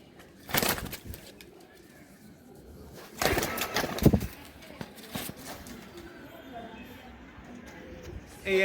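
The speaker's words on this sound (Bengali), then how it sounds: "এই এক পেয়ার কবুতর" A pair of Giribaz pigeons coo softly among a few wing flaps and rustles, with someone talking nearby in Bengali over a faint background hum.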